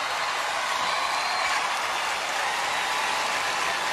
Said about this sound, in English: Another round of applause for Africa and Asia Pacific.